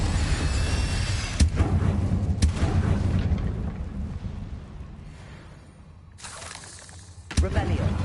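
Incendio, Stupefy and Accio spells in Hogwarts Legacy fire off as sharp cracking blasts, a few distinct impacts over a rumbling combat bed that thins out before a final burst, with a voice speaking throughout.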